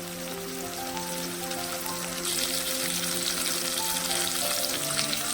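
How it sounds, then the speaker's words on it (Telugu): Crushed garlic dropped into tempering oil crackles and hisses continuously, the sizzle swelling louder partway through, with a steady tonal hum behind it. "దంచి తాలింపులో వేసాను"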